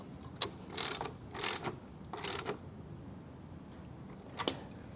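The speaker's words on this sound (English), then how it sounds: "then thread on the nylock nut" A nylock nut is turned by hand onto the axle slider of a 2026 Aprilia RSV4, giving three bursts of metallic ratcheting clicks and a final short click, close and clear with no talk.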